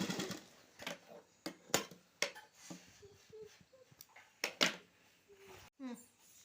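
A sewing machine stitches an embroidery blouse in short bursts of rapid mechanical whirring separated by pauses, close and fairly quiet, while someone talks between and over the runs.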